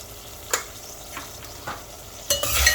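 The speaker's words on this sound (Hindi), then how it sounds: "अब इस टमाटर के साथ हम मसालों को भी भून लेंगे" Spices frying with tomato in a pan, soft sizzling with a few scattered stirring scrapes and a louder spatter near the end, heard close and alone.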